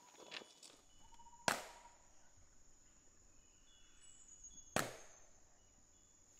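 A single sharp hand clap made about 11 meters from stereo microphones outdoors near a small temple, heard as two distinct cracks a few seconds apart, each with a short echo, over faint insect buzzing.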